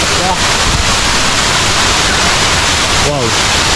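A waterfall roars as a dense, loud, constant rush of water, close by, with a voice briefly audible over it.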